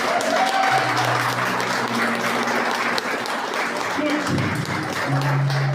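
Church congregation applauding during a worship service, a steady wash of clapping filling the room, with a voice and sustained instrumental tones running underneath throughout.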